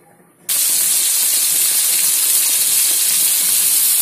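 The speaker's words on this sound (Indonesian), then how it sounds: "ya kita tumis bumbu yang ada aja" Spice paste of shallot, garlic, turmeric, ginger, coriander and pepper hits hot oil with a sudden loud hiss, then sizzles steadily and evenly, close and alone, for the rest of the clip.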